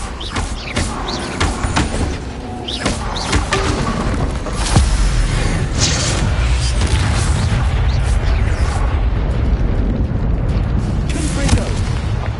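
Dense, continuous barrage of explosive Confringo spell blasts and booms in Hogwarts Legacy combat, loud and sustained throughout, with rapid impacts layered over a constant rumbling roar.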